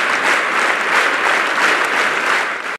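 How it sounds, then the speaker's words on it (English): Church members clap continuously for a Guinness World Record attempt at the longest applause, a loud, dense, unbroken wash of crowd clapping that holds steady throughout. "Apostle Grace Riga and his team clapped for 3 hours and 20 minutes for Jesus."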